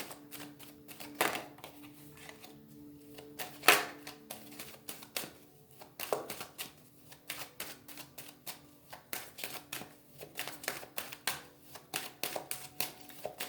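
A deck of tarot cards being cut and handled, heard as a long run of crisp, irregular card slaps and riffles, close and fairly quiet, with no voices.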